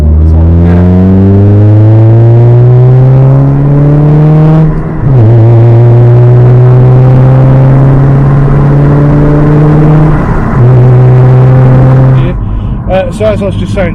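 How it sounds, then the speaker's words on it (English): A Honda CR-Z engine drones loud and close with a steady, rising tone that steps up in pitch through the run, dipping briefly twice before settling. "the car's now going to come down, and we're going to give it a drive"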